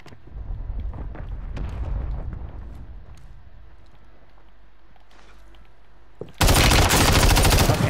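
Gunfire in the shooter game Warzone: scattered shots and impacts at first, then after a quiet stretch a sudden loud burst of rapid automatic fire.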